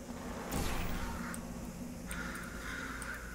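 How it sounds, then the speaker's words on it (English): Harsh crow-like cawing from a bird creature in the video game Portal Revolution, a few rough calls near the start and again later over steady game background noise. "That bird."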